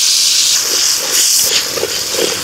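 Onion and garlic paste hits hot oil in a pan, a loud, close, continuous hiss like steam with a few brief bursts of sputter rising through it.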